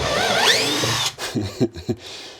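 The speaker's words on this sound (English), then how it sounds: "it is so much easier taking the floor out with this electric tools" An electric power tool removes a van floor: a loud, close whirring spin for about a second, then stops, followed by a few short thumps and clunks.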